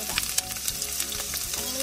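Onions frying in two tablespoons of hot olive oil for spicy samyang noodles, a loud close sizzle with bright crackling pops and stir scrapes throughout.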